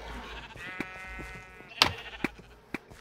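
Sheep bleating in the video game Sheep Quest 2, a drawn-out wavering bleat that fades into a few short sharp clicks and thuds, fairly quiet and with no talking.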